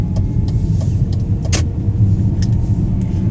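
A BMW E39 converted to electric drive cruises along a road, its low rumbling road and tyre noise steady and close, with a few faint clicks and a brief hiss, no talk.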